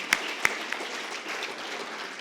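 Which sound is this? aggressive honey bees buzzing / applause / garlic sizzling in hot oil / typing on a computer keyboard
applause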